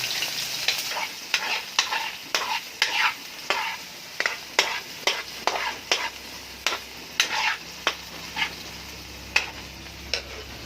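Tomato, ginger and onion sauté in a hot pan while a spatula stirs them. Crisp scraping clinks repeat in a steady rhythm over a continuous close sizzle, and no one speaks.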